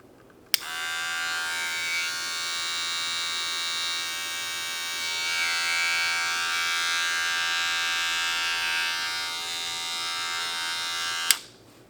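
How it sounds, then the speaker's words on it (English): Gamma Alpha hair clippers, fitted with a modified bracket, switch on with a sharp click and buzz in a steady, high electric drone for about eleven seconds before clicking off, close and alone. "So I just modified my Gamma Alpha clippers."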